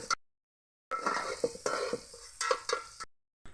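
Close, brisk spoon scraping through tomatoes and onions frying with turmeric in a pan, in short bursts of stirring and sizzle broken by brief silent gaps.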